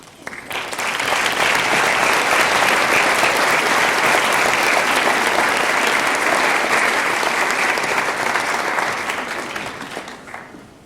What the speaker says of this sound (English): stand now and be recognized by a round of applause.